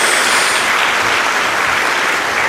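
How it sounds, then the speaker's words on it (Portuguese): Congregation at a church service giving a round of applause, a loud, dense, unbroken roar of clapping close by. "Dê uma salva de palmas a Jesus"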